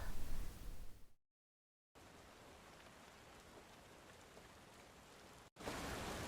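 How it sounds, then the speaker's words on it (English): Steady rain noise played back through speakers during a work stream, a broad even hiss that runs alone after a short gap of silence, then grows louder near the end. "let me get some nice rain sounds because this video promises me no ads"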